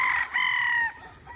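Gamefowl roosters on a farm crow in a loud drawn-out call with a short break in the middle, close by, followed by a faint softer crow further off.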